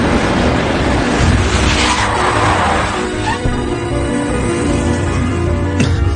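A car skids and brakes hard to a stop in a dramatic film scene, tires hissing and squealing over engine rumble, loud and close, followed by a brief sharp knock.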